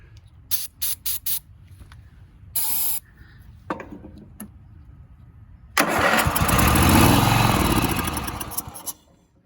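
Several short bursts of starter spray hiss, then a Deutz-Allis 1312H zero-turn mower engine cranks and sputters into a rough, loud run for a few seconds before cutting off.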